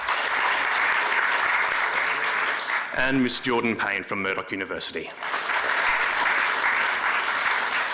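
Audience applause at a Harmony Week debate on cultural diversity, a steady crowd clapping throughout with a short stretch of a speaker's voice introducing a university guest over it midway.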